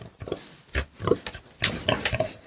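Pig grunting on a small home farm, a series of close, rough grunts and snorts in irregular bursts, with no talk.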